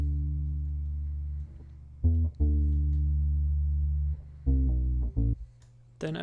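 A pitched-down guitar loop with its high end cut by EQ: deep, warm sustained chords that hold for long stretches, broken by a few short gaps and brief stabs near the end.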